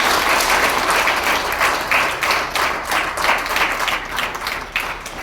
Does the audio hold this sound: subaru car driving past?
no